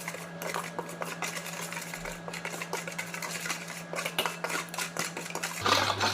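Spoon clinking and scraping against a pan while a paneer spice mixture with kasuri methi is stirred, with steady clattering taps under a constant low hum from a stove.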